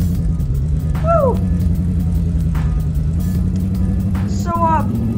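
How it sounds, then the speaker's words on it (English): A Lamborghini in a Roblox racing game gives a steady, loud engine drone with rising revs throughout, while players chatter over it. "So, that's a Lamborghini, huh?"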